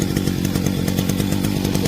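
A two-stroke brush cutter engine runs close by, already started, with a loud, rapid, steady buzzing putter and no talk over it.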